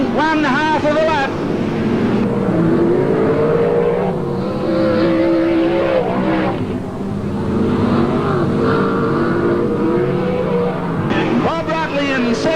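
Racing cars lap a circuit during a New South Wales sports car race, engines roaring loudly and continuously with rising and falling pitch as they pass, under steady commentary.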